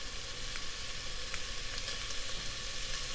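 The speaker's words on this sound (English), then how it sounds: "you can hear the bacon is starting to sizzle" Bacon strips sizzling and frying in a pan, a steady crackling hiss with scattered sharper pops, close and continuous without any talk.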